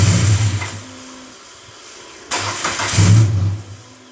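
Dodge Neon stock car engine cranking, catching briefly, then firing up and revving, loud and close, with a lull between the two attempts and no talking.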